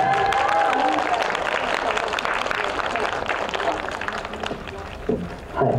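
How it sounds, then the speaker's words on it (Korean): Audience applause at a Korean fan event for a visiting Japanese actor, a broad steady wash of clapping and crowd noise lasting several seconds, fairly loud and close, tapering slightly near the end. "저희 박수 한번 부탁드릴게요."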